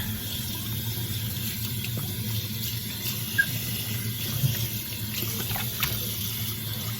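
Tap water runs steadily from a faucet to rinse makeup residue off a brush cleaning mat at a sink, a continuous close hiss and splash with no talking.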